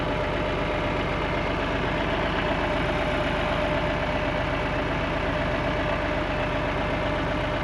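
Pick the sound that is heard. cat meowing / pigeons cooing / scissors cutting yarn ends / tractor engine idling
tractor engine idling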